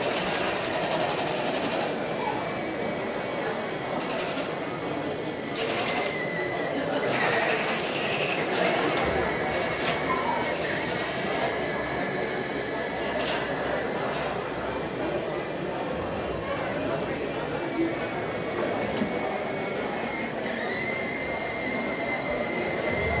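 A Robosen Flagship Optimus Prime transforming robot toy drives along on its own, its small motors and gears whirring steadily at close range with ratcheting clicks, under continuous background chatter from a crowded toy fair hall.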